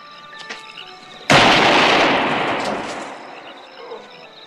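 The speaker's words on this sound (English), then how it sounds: "He shot me with drugs." A single gunshot from a 1979 horror film cracks out sharply after a quiet stretch, its loud boom trailing off slowly over a couple of seconds.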